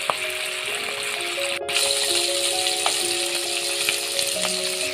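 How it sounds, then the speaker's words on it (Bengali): Fish roe fries lightly in a pan for a village-style eggplant curry, a steady soft sizzle with faint rattling clicks and thin tonal hums in the background. "ওই জন্য আমি মাছটা হালকা করে ভাজি নিই।"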